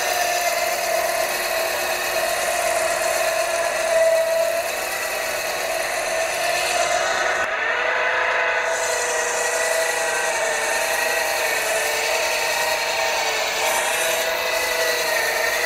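A mini lathe drilling a small hole in steel runs with a steady, continuous motor whine and hum for the whole stretch, close and even in level, with a brief dip partway through.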